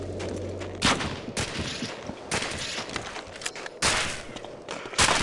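Sniper rifle fire in the video game Medal of Honor: Allied Assault, several sharp loud gunshots spread over a few seconds amid game noise.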